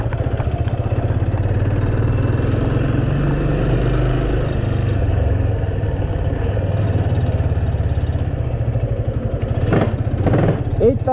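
A 250 motorcycle engine rumbles steadily at close range with a deep throbbing idle, briefly revving louder near the end.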